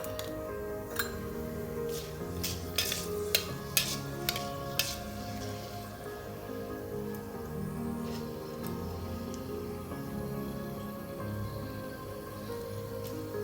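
Fenugreek seeds and a bay leaf sizzling in hot oil for an egg loncha, with a steady low frying hiss throughout and a few sharp clinks of a spoon against the pan near the start.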